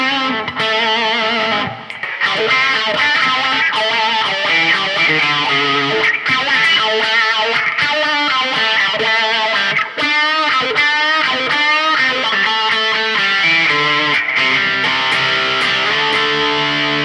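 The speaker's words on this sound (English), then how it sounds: "If we put on a rat type distortion," Electric guitar on the bridge pickup through a Rat-type distortion pedal, a loud, saturated run of chords and bending lead notes played continuously and close, with no talking.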